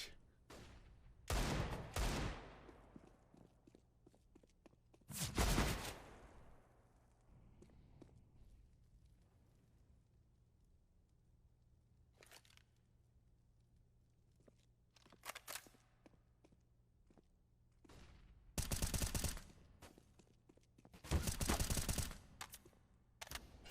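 Pistol fire in a Counter-Strike match on Mirage comes in several loud separate bursts of rapid shots spread across the stretch, with quieter footsteps and game noise in between.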